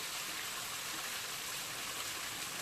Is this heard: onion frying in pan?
no